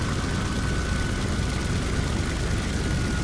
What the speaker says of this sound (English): Listen to this plane.